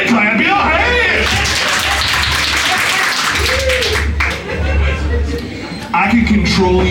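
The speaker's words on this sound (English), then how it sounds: "Everybody clap your hands!" Comedy club crowd clapping along in a stand-up set in New Orleans, dense steady applause mixed with rhythmic clapping, loud and close, with murmurs and a voice over it.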